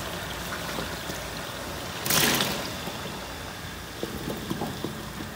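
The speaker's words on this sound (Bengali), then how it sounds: "আমি এখন আমটা এখানে ঢেলে দিচ্ছি।" Green mango pieces are tipped into a pan of cooked spices in one short, rushing clatter, followed by quieter crackling and a few light ticks from the pan.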